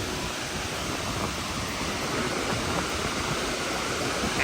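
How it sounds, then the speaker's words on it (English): Dynjandifoss waterfall in Iceland roaring as a steady, dense broadband rush of falling water, loud and close, with no break and no voices over it. "We're going all the way to the waterfall inside."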